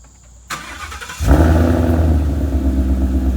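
A car engine starts by remote start, a faint whir at first, then a loud, steady rumbling idle close by with a broad low roar that continues to the end.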